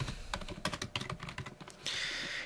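Rapid clicking keystrokes on a computer keyboard while filling in a user profile in the SnowPilot snow-observation software, steady and close, with no talk, ending in a brief burst of brighter noise.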